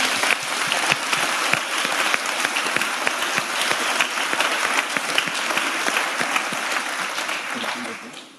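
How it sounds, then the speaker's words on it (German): Sustained applause from a conference audience for the panelists at an IT procurement conference in Switzerland, dense and steady clapping filling the hall before gradually tapering off. "Nochmal Applaus für die PanelistInnen."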